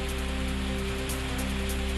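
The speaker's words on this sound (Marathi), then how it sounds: "गोंदियामध्ये पुन्हा जोरदार पावसानं हजेरी लावली आहे." Heavy monsoon rain pours down in Gondia, a steady dense hiss with no break, broad and close, with a constant low hum running underneath.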